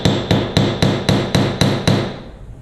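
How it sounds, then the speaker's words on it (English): A hammer strikes metal eight times in a steady, even rhythm while a jeweller textures a piece, each blow a sharp, bright ring close up, fading slightly toward the end. "If you're getting marks like that, just adjust your angle of your hammer so the whole thing is hitting."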